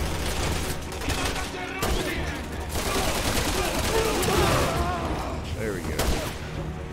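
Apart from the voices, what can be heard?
grenade explosions in the video game Resident Evil 6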